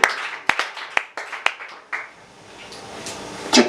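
A church congregation clapping to acclaim the Lord, opening with a handful of sharp, evenly spaced claps, then fading to a quiet stretch before a brief louder burst at the end.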